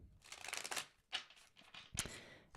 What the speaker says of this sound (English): I'm just going to shuffle some cards.